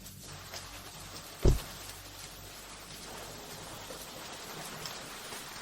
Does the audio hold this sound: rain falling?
yes